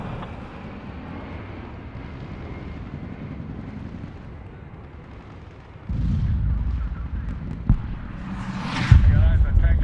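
Hellfire missile strikes detonating in the video game Medal of Honor: a steady low rumble of distant battle, then heavier booming impacts from about six seconds, with a sharp blast near the end, under radio chatter.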